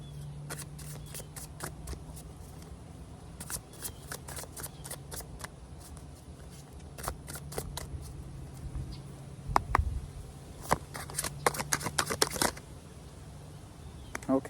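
Spirit ally oracle cards being shuffled by hand, a steady run of crisp riffling flicks and slaps close up, with bursts of faster shuffling near the end and occasional soft speech.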